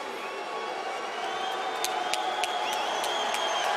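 Crowd at a UFC event in Portland applauding a fighter after a decision, a steady wash of clapping and cheering from a large audience, moderately distant, swelling slightly toward the end.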